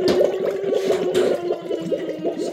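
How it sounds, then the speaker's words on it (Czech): Liquid bubbles and gurgles close by in rapid irregular pops, a continuous wet burbling with a watery hiss, loud and steady with no talking. "Co pak to tady bublá?"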